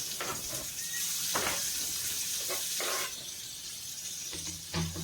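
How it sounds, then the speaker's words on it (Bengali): Chopped onions frying in oil, with a bay leaf in the pan, give off a steady, close hiss and sizzle that holds for several seconds with a few brief surges. "এখন পেঁয়াজটাকে হালকা করে ভেজে নেব"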